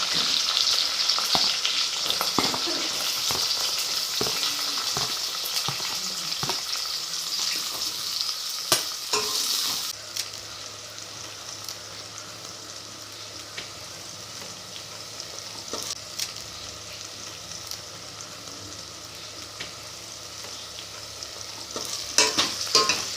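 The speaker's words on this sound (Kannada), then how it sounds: "ನಂತರ ಈರುಳ್ಳಿನ ಹಾಕಿ ಫ್ರೈ ಮಾಡಿಕೊಳ್ಳೋಣ" Onions frying in hot oil with mustard seeds and green chilli in a pan: a steady close hiss and sizzle with scattered ladle clinks and scrapes from stirring, easing slightly partway through.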